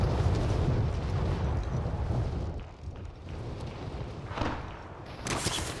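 Gunfire and explosive blasts in the video game Call of Duty: Modern Warfare rumble loudly and steadily, with a sharper burst near the end and no voices over it.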